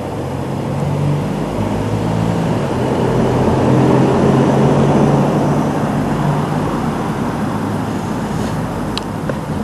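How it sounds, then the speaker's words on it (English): A car passes on a street outside the Crown & Anchor pub in Jarrow at night, a steady broadband roadway whoosh that swells gently in the middle of the pass and then eases away. "Car just gone past."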